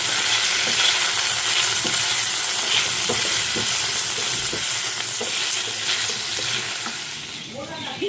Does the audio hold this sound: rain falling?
no